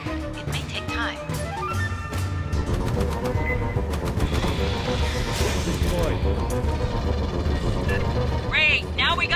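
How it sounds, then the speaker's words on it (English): Rapid bursts of gunfire crackle amid a busy game soundscape in Aliens: Fireteam Elite, with electronic effects and a voice speaking over the action. "Must have heard the gunfire."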